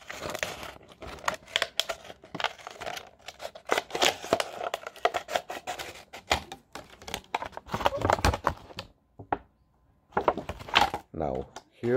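Recycled plastic bottle being cut by hand for making flowers, with repeated close crinkling, snipping and crackling bursts at an uneven pace, interrupted by short pauses and broken up by intermittent talk.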